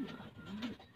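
A pigeon gives a low, soft coo, close by and quiet, in a brief moment with no talking.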